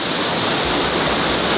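Rushing water at Sipyen Waterfall on Kosrae, a loud, steady broadband roar of falling water that holds constant throughout, heard close and alone with no voices.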